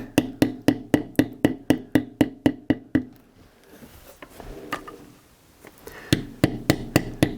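A leather beveler struck with a mallet while tooling a carved design on a leather valet tray: sharp, evenly spaced taps in a fast steady rhythm, a short pause with a few scattered knocks, then the tapping resumes.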